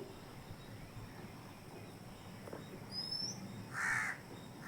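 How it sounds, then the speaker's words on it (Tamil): A crow caws once or twice at a distance over quiet outdoor ambience, with a faint bird chirp just before. "பறவைகளின் சத்தம் கேட்கும்னு நினைக்கிறேன்"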